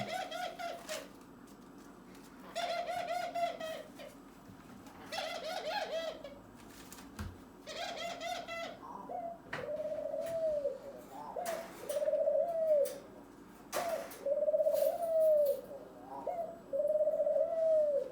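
Pigeons coo nearby in repeated low, throaty phrases, one call after another with brief pauses between, clear and moderately loud.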